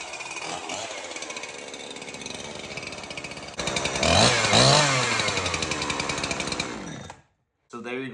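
Chainsaw with a newly installed muffler starts and runs, a loud close buzzing engine that revs up sharply midway, holds high, then cuts off briefly before firing again; a voice is heard over the early idle.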